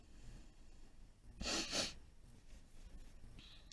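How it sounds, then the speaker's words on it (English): A person with a cold sniffles once, a short nasal snort and breath burst standing out briefly from a quiet room. "Sorry if I'm sniffling, guys. I think I may be getting a little bit of a cold."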